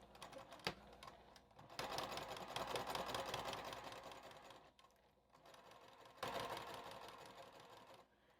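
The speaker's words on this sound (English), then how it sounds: "Just going to sew right on that edge there." A sewing machine stitches along the edge of a fabric pouch: a fast, even mechanical whirring in two close runs separated by a short pause, at moderate volume, with no speech.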